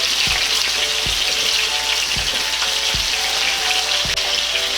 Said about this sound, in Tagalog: Pwede na nating prito itong ating patatas.